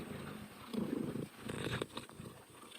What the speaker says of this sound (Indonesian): Bisa dengar suara dengkuran ya teman-teman.